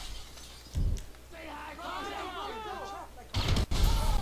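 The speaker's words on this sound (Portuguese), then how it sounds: "Parece que alguém morreu com essa granada" A grenade explosion in GTA V: a heavy low boom near the start, a longer crackling burst afterward, and a second loud blast near the end, under in-game voices.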